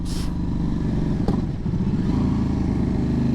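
2008 KTM RC8 superbike with its LC8 V-twin pulling hard under acceleration, a steady loud engine drone heard from the rider's position, with a brief clack partway through.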